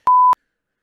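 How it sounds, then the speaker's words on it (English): A single steady electronic warning beep for driving too fast sounds once, short and loud, lasting about a quarter second before silence. "that was my beep saying I was getting too fast"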